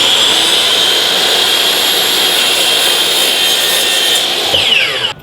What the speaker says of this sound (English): we're back from the miter saw using the stop blocks